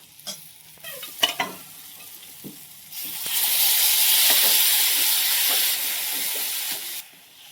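Pavta bean and potato curry cooks in a pan: a few light clinks and taps come first, then a loud, steady steaming hiss lasts about four seconds before cutting off.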